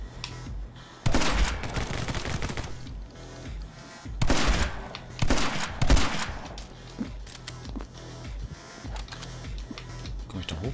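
Gunfire from a weapon in My Friend Pedro, loud bursts of rapid shots around the first, fourth and sixth seconds, separated by quieter stretches with game music underneath.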